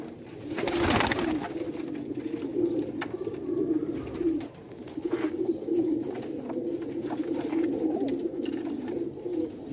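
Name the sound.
Sialkoti pigeons cooing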